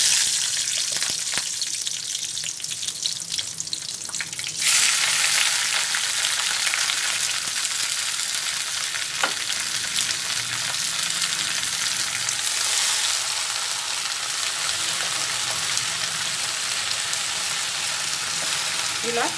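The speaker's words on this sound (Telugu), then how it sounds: "ఫస్ట్ గోంగూరను నూనెలో గోలించుకోవాలి" Gongura leaves frying in oil in a kadai for Telangana lamb boti curry: a loud, steady hiss of sizzling oil that flares up sharply after a few seconds and holds, close and continuous.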